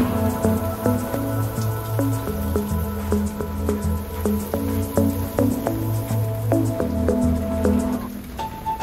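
Steady rain patters and drips outside a houseboat beached off grid, a continuous close layer of drops hitting surfaces, joined by scattered brighter plinks and low tonal sounds throughout.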